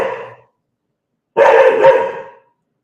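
A dog gives two barks indoors: a short one at the start and a longer, louder bark after a silent pause. No talking is heard.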